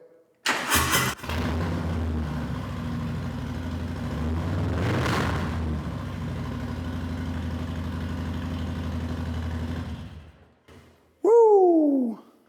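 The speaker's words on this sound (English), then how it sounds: "let's check out the sound of the exhaust" A Harley-Davidson Low Rider S with a newly installed TBR exhaust cranks and catches after a couple of sharp bursts, then runs at a steady rumbling idle for several seconds before cutting off, followed by a brief squeal.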